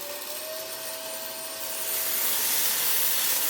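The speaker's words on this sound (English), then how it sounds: "turn our cordless stick vacuum into a power head cordless stick vacuum" A cordless stick vacuum fitted with a Hoover Hooverette power head runs alone in a steady, loud whirring hiss, with a thin tonal whine that shifts and brightens as the pitch rises partway through.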